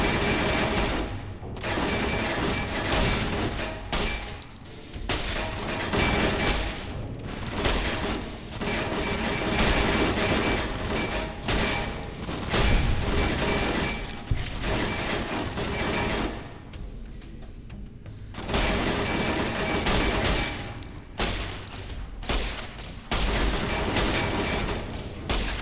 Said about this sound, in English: that's a some very serious automatic fire there